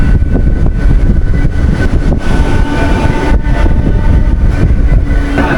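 A Howrah–Digha local train rolls through Phuleshwar station, with a loud, continuous rumble and rattle of carriages close by and a faint horn-like tone running under it, with no voices.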